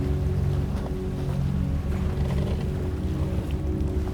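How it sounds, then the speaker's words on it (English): A ferry slowing on open salt water beside a dock, its low engine rumble steady and continuous, with wind and faint water wash around the hull and no voices. "The ferry slows again."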